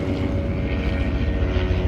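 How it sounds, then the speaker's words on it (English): A helicopter drones steadily from high overhead, a continuous low rotor and engine rumble with no other sounds. "A helicopter is passing by."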